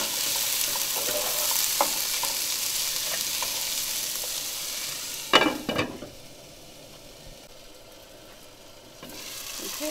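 A tomato, cauliflower and potato mixture for aloo gobi fries in a pan with a steady, fairly loud sizzle, broken by a few sharp stirring scrapes and clinks before the sizzle softens and then swells again.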